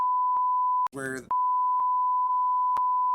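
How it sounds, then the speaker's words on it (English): A steady censor beep tone runs through nearly the whole stretch, briefly broken once by a burst of speech, masking a spoken spoiler about a book's ending. "beeped this out for people who don't want spoilers"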